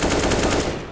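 Rapid automatic spray from an AK rifle in Counter-Strike: Global Offensive, a loud, dense burst of shots that continues steadily for about a second before easing off.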